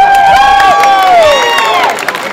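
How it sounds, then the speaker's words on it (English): An audience at a school's end-of-year creative arts show cheers and shouts in a brief, loud burst, with excited children's voices rising over the crowd noise. "The runner-up for that, and who really needs applause also, is Daniel Gould."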